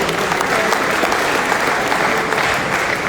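An audience at a tech festival panel session applauds, a dense, even wash of many hands clapping together, loud and close, holding steady for a few seconds with no break.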